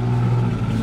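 A 1953 Ford convertible's flathead V8 idles through dual exhaust, a steady, low, rumbling burble heard up close and alone, with no talk over it.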